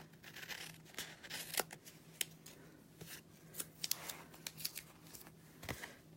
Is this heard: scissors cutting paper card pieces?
yes